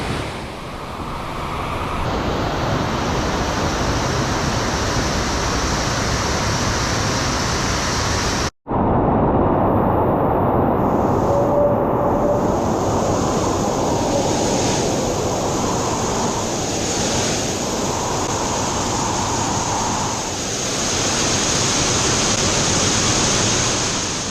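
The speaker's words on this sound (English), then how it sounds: "So now we're going to cross the waterfall again" An underground waterfall inside Jovellar cave in Albay roars as a continuous, loud broadband rush of water close by, broken by one brief cut before the steady torrent resumes.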